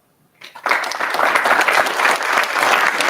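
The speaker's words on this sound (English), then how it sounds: "Give yourself a round of applause." Graduates and guests at a paramedic graduation ceremony break into applause after a brief silence. The loud, dense clapping rises quickly and stays full and steady.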